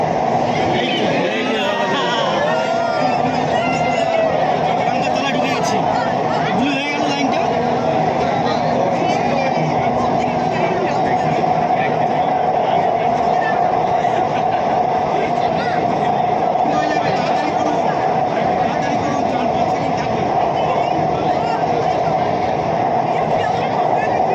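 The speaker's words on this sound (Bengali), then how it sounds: "মহাকারণ মেট্রো স্টেশন ছেড়ে দিয়েছে।" Steady loud rumble and whine of a Kolkata metro train running through an underwater tunnel beneath the Ganges, continuous throughout, with faint crowd murmur underneath.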